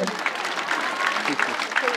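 A congregation at a church gathering claps together in sustained, dense applause that fills the room evenly for the full moment, with no clear speech rising above it.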